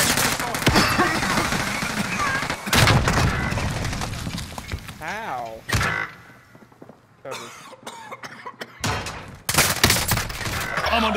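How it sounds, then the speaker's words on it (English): Bursts of rapid gunfire in a Call of Duty: Modern Warfare multiplayer match come in loud clusters separated by quieter gaps, with players talking over the action at several points. "I'm under fire."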